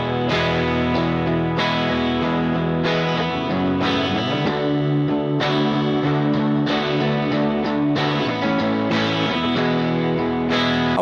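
Two electric guitars run through UAD amp simulators (Ruby and Woodrow models) play an alternative pop rock part, a dense, distorted wall of chords with chorus and echo, loud and steady with rhythmic chord changes throughout.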